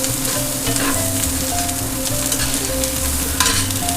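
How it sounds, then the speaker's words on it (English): Minced garlic sizzles with onions and chanterelle mushrooms in a pan for smothered pork chops, a loud, steady frying hiss with occasional stirring scrapes and clinks, with no speech. "after a few minutes of sauteing those onions and mushrooms, I'll go ahead and throw in 3 cloves of minced garlic"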